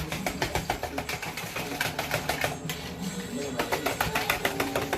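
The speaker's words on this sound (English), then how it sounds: "We're going to whisk this chunky." A whisk beats powder into a chunky beef stew mix that already holds onions, carrots, celery and potatoes, producing quick, regular rhythmic clicks and scrapes at a fairly faint level.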